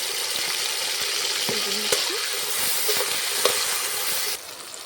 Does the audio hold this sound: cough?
no